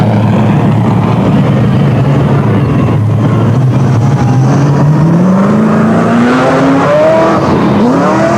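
Speedway race cars at a 1984 USA versus Australia test match heat race at Newcastle Motordrome, engines roaring loud and continuous with rising revs and pitch sweeps as cars accelerate past.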